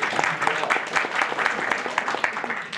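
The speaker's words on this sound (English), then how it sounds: "round of applause for John" A round of applause from the audience at a Linux users' group talk, with many hands clapping together in a dense, steady patter that runs throughout.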